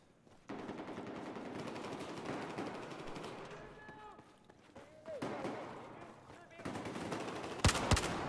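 Automatic and single gunshots rattle in a Battlefield 4 multiplayer match on PS4, bursts continuing across the stretch with a few sharper close shots near the end, game sound effects mixed in.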